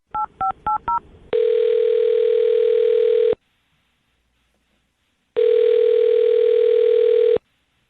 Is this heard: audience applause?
no